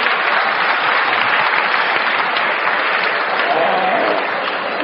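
Steady, dense applause from a large crowd at a Colombian political campaign gathering held by a charismatic community, loud and sustained without pause throughout.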